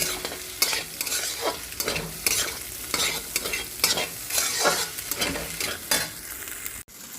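Onion paste frying in a pan for Andhra-style egg curry, with steady sizzling crackle and repeated spoon scrapes stirring through it at a regular pace, close and fairly loud with no talking.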